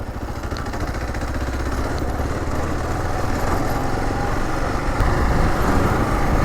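A Kawasaki KLR650 motorcycle with its stock exhaust drones steadily and fairly quietly while riding off-road, a continuous low rumble with slight rises and dips in revs.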